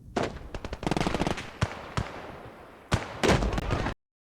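In a World War II shooter, a grenade explosion closes out a burst of rapid gunfire and sharp bangs, with a loud, dense blast near the end before abrupt silence.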